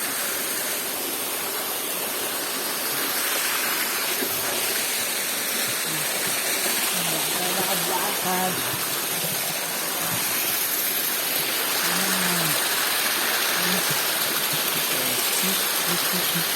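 A forest waterfall rushes with a steady, broad hiss of falling water, close and constant, while faint voices murmur now and then beneath it.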